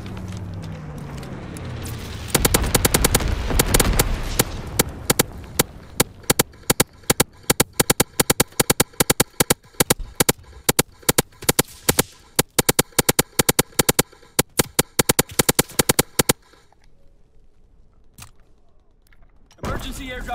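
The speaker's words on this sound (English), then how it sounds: "Bomber incendiary. Low altitude bomber inbound." An incendiary bomber air strike in Call of Duty WWII: a low rumbling approach gives way to a long stretch of dense, rapid explosions and crackling impacts, loud and close, before fading to quiet with scattered pops.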